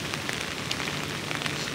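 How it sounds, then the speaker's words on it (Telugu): Heavy rain pours steadily over residential staff quarters, a dense, even hiss with scattered sharper drops pattering close by. "ఎంత వర్షం పడుతుందంటే ఒకసారి చూడండి ఫ్రెండ్స్"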